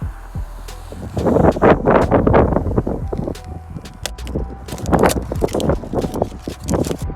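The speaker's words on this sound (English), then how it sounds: "This wind is kind of really annoying here" Gusty wind blowing outdoors while a channel letter sign is being repaired, with irregular rumbling gusts that swell and ease, buffeting close to the microphone, and no one talking.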